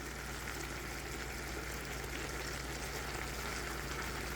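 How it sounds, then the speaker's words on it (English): Meat frying in a pan for a Philly cheesesteak gives a steady, even sizzle and hiss, constant and close with no breaks. "Get that meat sizzling."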